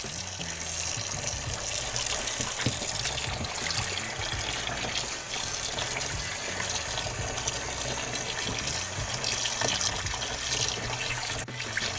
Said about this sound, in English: I'm using hot water, basically as hot as it'll get.